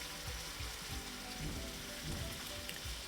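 Chicken sizzling in a hot pan with red chilies and cinnamon for an Anglo-Indian chicken fry, a steady crackling hiss throughout.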